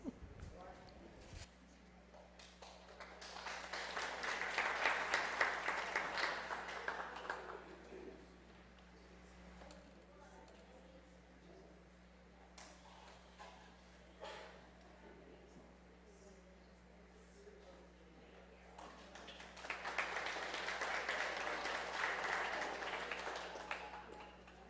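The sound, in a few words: audience applause in church service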